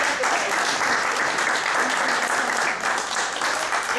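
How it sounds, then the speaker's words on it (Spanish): Steady, dense applause from an audience at a solemn cultural centre exhibition event, honouring a coordinator; continuous and even throughout with no talk. "Un aplauso para Linda."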